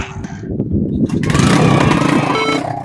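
A motorcycle engine on a motorbike taxi runs loud and close, a rough buzzing drone that rises and holds steady after a quieter sputtering start, with wind noise around it.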